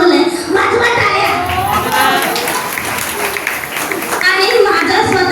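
An audience at a Grandparents' Day celebration claps in a dense, steady patter mixed with overlapping voices and chatter throughout.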